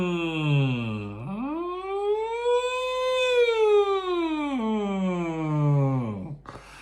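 A single voice imitates a siren as a singing warm-up in a voice class, gliding smoothly from low up to high and back down again in one long continuous wail.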